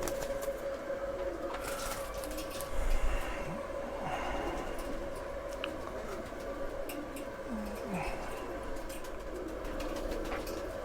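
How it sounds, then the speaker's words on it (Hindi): Soft cooing of Deobandi pigeons of the Langot breed sounds through a steady outdoor background hum, with a brief louder rumble early on and faint scattered clicks. "लंगोट ब्रीड के देबंदी कबूतर"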